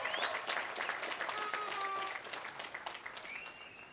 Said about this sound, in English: So let's give ourselves a round of applause for being here today